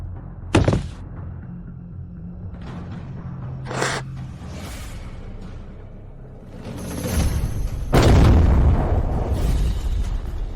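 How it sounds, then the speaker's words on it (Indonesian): Explosions in a martial-arts action film scene, with a sharp blast early on, a smaller pop, then a heavy rolling boom near the end, loud and without talk. "Kenapa meledak?"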